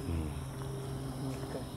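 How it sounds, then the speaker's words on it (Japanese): Crickets chirping at night outdoors, a steady faint trill of overlapping insect calls close by, with no talk. "コオロギ鳴いてるね。"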